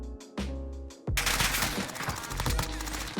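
Heavy automatic gunfire in the Warzone battle royale game, a brief burst followed by a dense sustained barrage of loud, rapid shots layered with distant firing.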